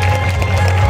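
Applause and crowd noise from an audience at an outdoor stage show at a stadium, a steady, dense wash of sound with no voices.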